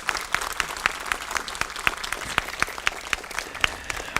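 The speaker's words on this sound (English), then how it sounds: "give another round of applause to these incredible young people that spoke to you this morning" An audience at a school district press conference applauds young speakers, the sparse, distinct claps sounding near, loud and rhythmic, with murmured voices underneath.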